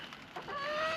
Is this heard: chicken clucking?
yes